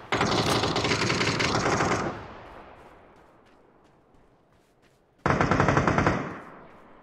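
Two loud bursts of rapid automatic gunfire in PUBG, the first about two seconds long, then a quiet stretch before a second shorter burst, with game sounds in between.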